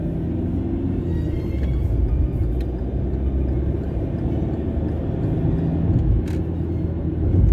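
A car pulls away during a driving licence exam, a steady low engine rumble rolling on throughout with no voices over it.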